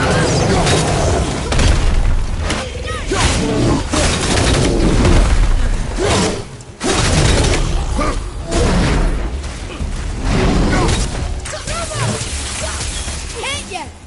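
Loud, dense bursts of battlefield gunfire and booming impacts roll continuously through a Gears of War match, with shouted voices cutting in over the din.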